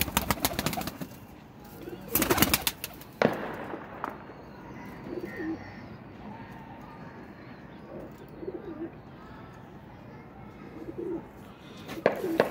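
Soft, low cooing of Ferozpuri pigeons on a rooftop repeats through the clip, with a few sharp bursts of clatter and rustling nearby.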